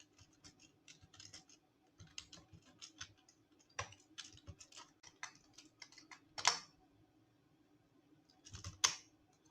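Keys clatter on a computer keyboard while code is written, in uneven bursts of light, close taps with a couple of sharper, louder key strikes and short pauses between.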